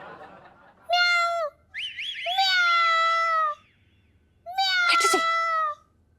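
A person imitates a cat with three drawn-out, wavering meows, loud and close, separated by short pauses and otherwise heard alone.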